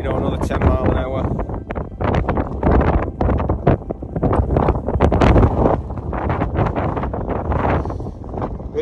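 Strong wind buffets the microphone on a fell summit in the English Lake District, a loud continuous roar that gusts and surges throughout with a voice talking underneath.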